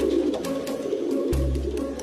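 Pigeons coo in soft, low repeated calls against a steady background hum in a comedy film scene, close and continuous with no speech.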